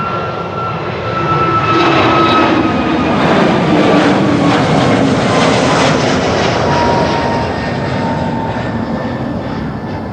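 Etihad Airbus A321neo jet at Amsterdam Schiphol, a loud close roar rising after about a second and a half, with whining engine tones sliding downward as it passes, then easing slightly toward the end.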